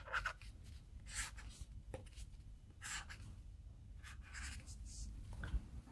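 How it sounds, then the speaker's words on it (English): A pencil or pen drawing lines on paper for a simple pea-pod sketch, a soft continuous scratching with repeated strokes, close up and gentle throughout. "Now draw a line like this."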